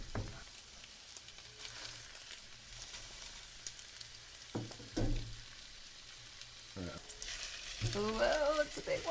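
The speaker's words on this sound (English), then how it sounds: "put them gills down in a hot oil pan" Oyster mushrooms laid gills down in a pan of hot oil give a steady, close frying sizzle with a few louder crackles and brief pan handling sounds toward the end.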